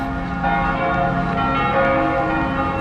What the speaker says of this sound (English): So there's the church tower. You can hear it going off.